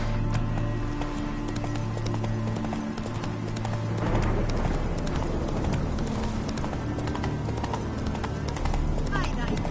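A horse's hooves clip-clopping in steady rhythm in The Witcher 3 video game, loud and continuous with a faster trot after a few seconds, over a low ambient game soundtrack.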